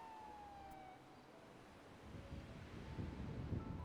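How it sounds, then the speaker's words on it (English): Police sirens wailing in the GTA NoPixel game world, a falling tone early on over steady wind-like rumble, growing louder and busier toward the end. "these sirens are very distracting"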